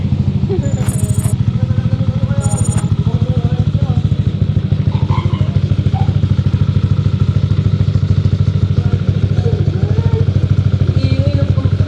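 A Yamaha Aerox scooter engine runs loud and close throughout, a steady low rumbling drone with slight revving swells, and voices chatter faintly beneath it at a studio session in Sta. Ana.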